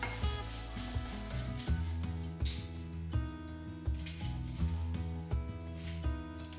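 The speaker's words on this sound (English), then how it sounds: "chopped garlic and methi leaves and saute it well" Chopped garlic and fenugreek leaves sautéing in a pan: a sizzle with rhythmic stirring pulses, largely masked by prominent background music playing throughout.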